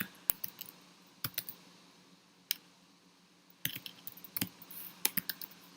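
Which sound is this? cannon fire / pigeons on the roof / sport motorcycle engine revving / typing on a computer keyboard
typing on a computer keyboard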